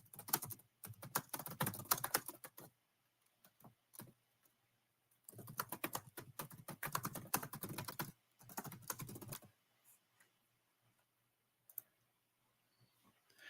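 Bursts of rapid keystrokes on a computer keyboard as a note is typed into a software field, two long typing runs with pauses and scattered single clicks, close and dry with no talking.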